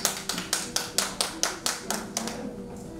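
At a poetry and painting exhibition in East Seoul, an audience claps in a steady, rhythmic beat of about eleven evenly spaced claps, moderately close, fading softer toward the end before a song.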